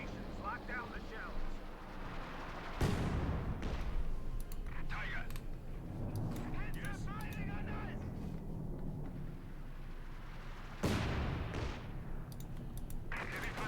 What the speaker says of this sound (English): Scott's getting ready to bombard here again